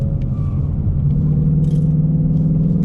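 A 2019 Ford Mustang GT with 460 horsepower pulling hard in third gear, its V8 rumbling deep and loud from inside the cabin as it accelerates steadily with a low throbbing pulse.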